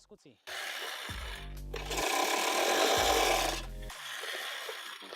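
A Bosch AHM 38G reel mower being backlapped in reverse gives a grinding, rasping whir of blades rubbing the bedknife, rising and falling in two pushes with a low motor hum, close and clear.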